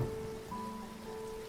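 Steady rain falls with an even, hissing patter that lasts throughout, alongside a soft sustained tonal background and no voices.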